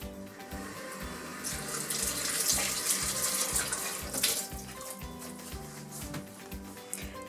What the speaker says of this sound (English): so I'm going to rinse that off first of all